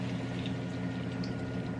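Water pours steadily into a bowl to rinse out leftover seasoning, a soft continuous splashing rush that stays faint and even throughout, with no voices.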